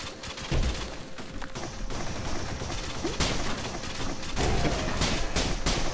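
Gold-plated bomb item detonating in the video game Risk of Rain, heard as a dense, continuous crackle of game explosions and gunfire-like bursts at steady loudness, with several sharper blasts standing out through the stretch.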